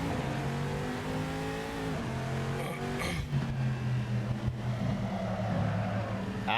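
A GT300-class race car in a sim racing game, rated at around 400 to 500 horsepower, holds a steady, loud engine drone with quick pitch shifts as it changes gear, running alone without talk.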